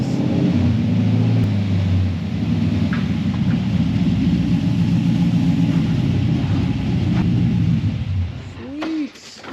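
A car just back from repair drives off with a loud, steady engine rumble close by that eases slightly partway through and fades near the end, and voices are faintly audible underneath.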